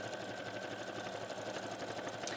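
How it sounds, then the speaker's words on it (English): A sewing machine stitches down the side seams of a fabric bag, a steady close whirring hum with a fast mechanical chatter running evenly throughout. "Right, so I'm sewing down the sides."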